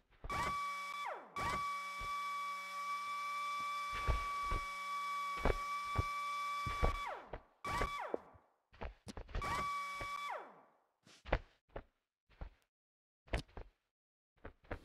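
A lever-operated machine in the Human Fall Flat dockyard level raises up with a mechanical whir and ratcheting hum that starts, stops and restarts, broken by clunks and clicks toward the end, without talking.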